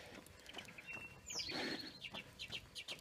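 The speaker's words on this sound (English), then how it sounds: "listen to the birds" Birds call outdoors, scattered chirps and a short rising squawk over faint background noise, fairly distant and quiet.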